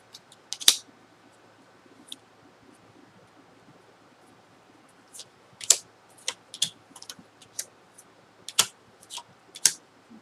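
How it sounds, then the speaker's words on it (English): Tarot cards are pulled from a deck in a quiet room, giving sparse, close, crisp snaps and flicks in irregular clusters with no voices. "So let's pull your clarifying cards."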